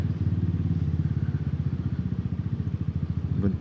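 Motorcycle ridden through rush-hour city traffic, its engine putting out a steady, close, pulsing thrum at cruising speed with a slight rise near the end.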